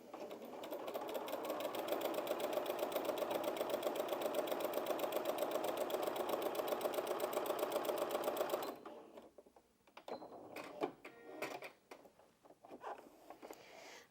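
A Janome 5270QDC sewing machine stitches a straight line at a slowed speed, a fast even needle chatter close by for about nine seconds, then stops, followed by scattered handling clicks and rustles.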